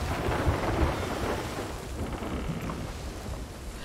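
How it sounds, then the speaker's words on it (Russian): A thunderstorm at sea in the Sea of Thieves video game, with dense rain and deep rumbling thunder filling the whole stretch at a steady, enveloping loudness and no talk. "Ой-ой-ой-ой-ой, вот это штормик."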